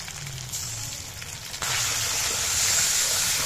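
Ginger and cumin paste drops into hot oil with tempering spices for aloo dum, setting off a loud, steady sizzle that swells partway through and keeps crackling close by.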